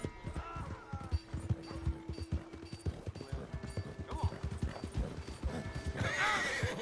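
A horse whinnies loudly and hooves clatter at a gallop in Red Dead Redemption, with rapid thumping hoofbeats, a sustained tonal drone, and a second shrill neigh toward the end.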